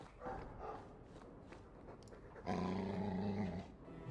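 Low, rumbling dog growl from the Dragon Age video game, faint at first and then swelling into a louder, sustained snarl near the end, heard alone without talk.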